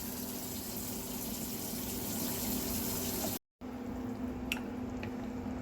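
Water pours into a pot of meat for peanut stew, making a steady close running splash that cuts off abruptly, then a quieter stretch with a couple of small clinks.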